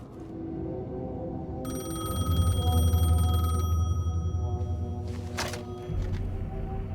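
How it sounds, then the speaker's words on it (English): A payphone rings in the Alan Wake 2 video game, a bright electronic trill sounding steadily for a couple of seconds, followed by a short clattering handset pickup over a low ambient rumble. "payphone was ringing."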